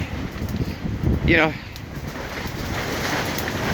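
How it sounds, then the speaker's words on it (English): Strong wind gusts sweep through a park and buffet the microphone with a roaring rush that swells and eases, while a voice briefly cuts through. "being interrupted by slight gale force winds that are just really nothing more than a,"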